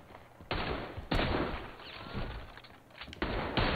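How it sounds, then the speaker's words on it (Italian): Bursts of gunfire in Red Dead Redemption 2 during a bank robbery: loud broadband cracks and rattling volleys, several sharp onsets in close succession with sustained crackle between them, no talk. "da dove cacchio di diavolo sparano?"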